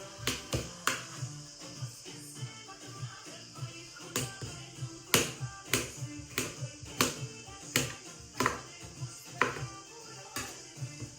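Knife chopping tomatoes on a cutting board for a salad, a steady series of sharp, quiet taps at an uneven rhythm, close by and alone.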